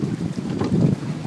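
Wind gusting over a small boat drifting on open water, a steady loud rumble buffeting the microphone, with no voices.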